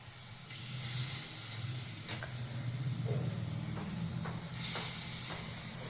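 Fritters (bora) frying in hot oil in a home kitchen pan, a soft continuous sizzle with a few sharper crackles and spits, fairly quiet and close, with no talking.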